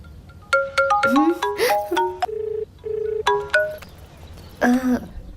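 A mobile phone ringtone plays a close, loud melodic electronic tune of rising and falling notes with brief pauses, ending in a louder chiming phrase. No one talks over it.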